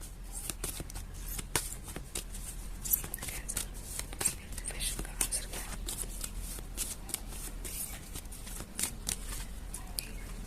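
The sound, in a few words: shuffling tarot cards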